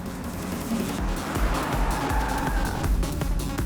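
A car drives along in a Hindi-dubbed action film scene, its engine and road rumble forming a steady, fairly loud broadband wash with no break and no voices.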